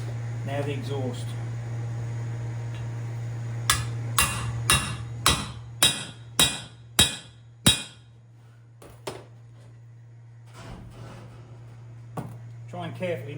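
Exhaust valve seats hammered into a cylinder head, with a run of about eight sharp, ringing metal blows at an even pace, followed by a few lighter taps, over a constant low hum with people talking around it.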